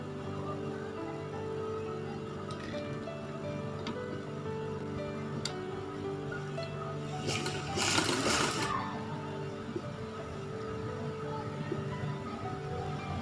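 Sewing machine stitching fine seams along a dupatta edge for attaching lace, a steady close mechanical whir with soft ticking, louder in a brief burst midway, with no talk.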